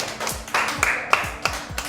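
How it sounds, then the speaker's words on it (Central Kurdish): A class at Khabur 1 school in Erbil claps for a student. Short, separate claps land about every third of a second, close and fairly loud. "ئافرین یەک چەپڵەی بەهێز لۆ دیاتی"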